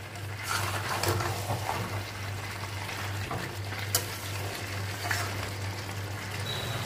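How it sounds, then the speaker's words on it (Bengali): Meat and potatoes being stir-fried together in a kadai over the heat, giving a steady close sizzle with occasional scraping and clinks of the spatula against the pan, with no talking. "এবার মাংসের সাথে ভালো করে আলুগুলোও কষিয়ে নিচ্ছি।"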